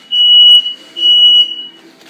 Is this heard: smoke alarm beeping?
yes